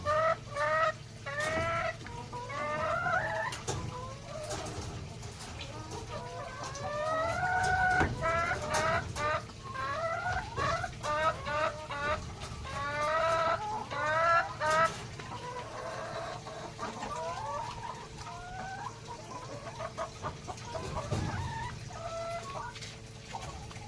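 Rhode Island Red and Dekalb Brown hens cluck continuously and close by, a busy overlapping chorus of rising clucks and squawks with a steady low background hum.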